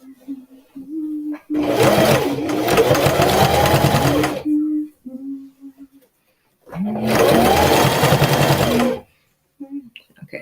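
A sewing machine stitches a seam on a budget Colonial Williamsburg-style dress in two long, loud bursts of rapid running, with quiet pauses and soft mechanical clicks between them.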